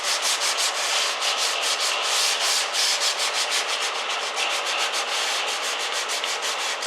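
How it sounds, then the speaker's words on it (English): Sanding a skim coat of body filler on a 1978 Lincoln Mark V Diamond Jubilee Edition, a loud, steady rhythmic rasping with quick back-and-forth strokes continuing without pause, no voices. "we put a little skim coat on it. That'll get sanded down"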